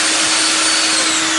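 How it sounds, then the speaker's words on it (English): Loud, steady drilling roar from a Mafell DD40p duo doweller boring the second pair of dowel holes in a wooden workpiece, a continuous high whine with no pauses. "Then reposition the work and drill the second 2."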